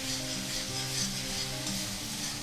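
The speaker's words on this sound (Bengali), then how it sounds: "এইভাবে নাড়াতে থাকবো যাতে না লেগে যায় আর ভাজা ভাজা হয়" Food for a low-oil vegetarian palak paneer is stirred as it fries in a pan. A soft, steady sizzle carries light rubbing stirs over a faint, even background hum.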